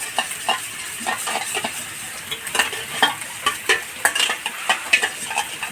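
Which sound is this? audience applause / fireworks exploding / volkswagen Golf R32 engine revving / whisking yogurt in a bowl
whisking yogurt in a bowl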